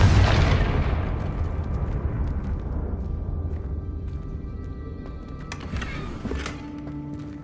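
A Confringo fire spell explodes in Hogwarts Legacy: one loud, deep blast at the start rumbles and slowly fades over several seconds, leaving a low ambient roar with faint game effects.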